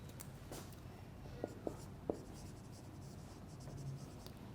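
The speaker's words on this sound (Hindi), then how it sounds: "मैं इसके लिए लिख भी देता हूँ" Chalk or marker taps and scratches on a board during a classroom lecture, three sharp strokes close together near the middle over a quiet room background.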